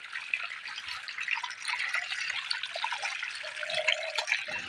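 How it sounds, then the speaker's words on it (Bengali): Water streams steadily from a pipe while fish are washed by hand, a continuous close splashing and trickling hiss with small drips and sloshes throughout, no talk. "এক রাজবংশী সখী পাইপ ধরছে, আর এক রাজবংশী সখী এই যে মাছ ধোয়ে।"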